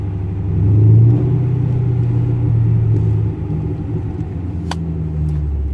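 A Ford Mustang GT with a badly vibrating, steering-pulling chassis drives along, its engine and tyres giving a steady low rumble that swells briefly early on, then holds at a constant droning level.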